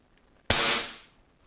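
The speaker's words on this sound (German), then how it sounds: "Das heißt, ich kann den Schuss dann abgeben." A single sharp shot from a Reximex RP air pistol, a crisp crack with a short fading tail, otherwise quiet.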